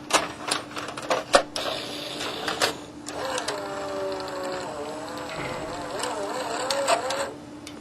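Tape loading mechanism seen from the underside of a VCR, driven by a single motor: clicks and clunks at the start, then a steady mechanical whir with gliding, rising and falling motor tones as the tape is threaded.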